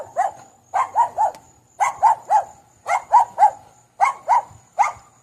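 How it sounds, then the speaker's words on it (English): A neighbour's dog in a backyard barks in repeated clusters of two or three sharp, fairly close barks, keeping up a steady rhythm with short pauses between groups. "he just starts barking and keeps barking for no reason"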